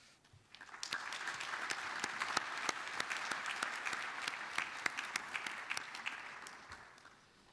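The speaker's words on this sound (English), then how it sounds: "let us show again our appreciation with a well-deserved round of applause for them all." Steady applause from an audience at a council session fills the hall, with dense clapping that rises quickly, holds for several seconds and then fades toward the end.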